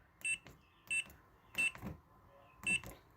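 Electronic keypad on a trailer door gives four short, sharp beeps in an uneven rhythm, close and clear, with faint handling noise between them.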